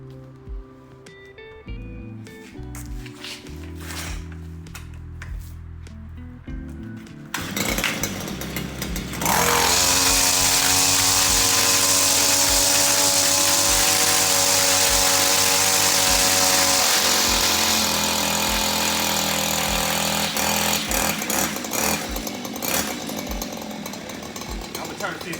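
A string trimmer's small engine runs outdoors, first uneven and sputtering with some talk, then revving up to a loud, steady, buzzing whine that holds for a long stretch.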